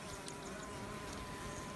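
Honeybees humming around an opened hive during spring brood nest management, a faint, steady swarm drone with occasional nearer passes, no voices present.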